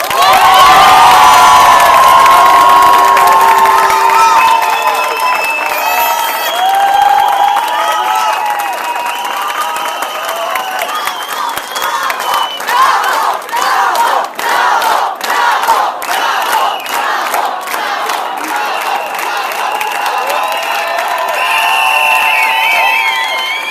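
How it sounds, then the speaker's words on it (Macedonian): Large crowd applauding and cheering for a group of professors at a medical education event, loud and sustained throughout with whoops and shouts rising over steady clapping. "Ве замолувам за еден аплауз за сите овие професори"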